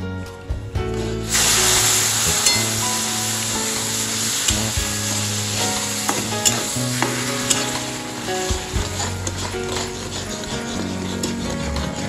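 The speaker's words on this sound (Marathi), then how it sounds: "नंतर हे पाणी आपण जे उकळून ठेवलं होतं ते टाकायचंय त्यामध्ये थोडं थोडं" A loud, sustained sizzle and hiss as boiled water is poured into semolina roasting in a hot pan for sweet sheera, with clinks of stirring and bubbling continuing throughout.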